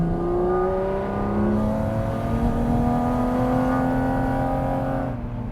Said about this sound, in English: It's screaming about everything it's doing because you're living with the engine.